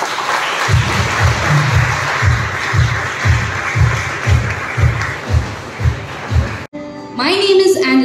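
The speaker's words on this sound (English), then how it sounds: "Kindly applause." A school audience applauds at the inauguration of a secondary-school math exhibition on National Mathematics Day. The loud, sustained crowd clapping carries a steady rhythmic beat of unison claps beneath it, then cuts off abruptly as a voice begins speaking.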